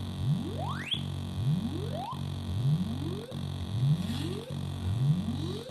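Repeating synthesizer chirps sweep upward in pitch about once a second over a dense droning tone, passed through a DIY passive attenuator module, steady and fairly quiet.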